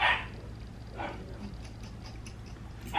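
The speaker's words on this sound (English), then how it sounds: "It's like our dog is a little angry at the moment." A somewhat angry dog barking in the background of a quiet room, a few short, muffled barks spaced apart, at the start, around the middle and at the end.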